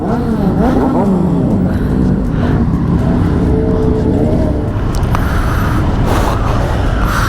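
Loud, close roar of Triumph superbike exhausts, including a Street Triple, revving at a motorcycle meetup, with engines rising and falling in overlapping bursts.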